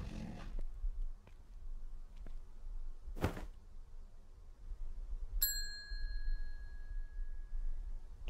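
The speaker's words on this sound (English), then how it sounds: "Someone ring the bell at the front counter." Service bell at a front counter in the horror video game BloodWash: a single bright, close ding rings out and sustains for a few seconds, preceded by a sharp thud and faint clicks against a quiet low ambient rumble.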